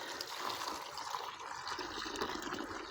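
Water poured or trickling into a container to soak wild mushrooms, a soft, steady, faint splashing and gurgling throughout.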